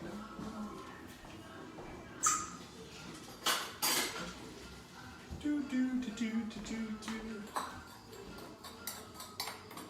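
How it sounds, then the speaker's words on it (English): Light clinks and scrapes of a spoon mixing six dry marinade spices in a bowl, intermittent and fairly close, with a few sharper taps against the bowl and faint background noise. "So just take all 6 of those spices, mix them up"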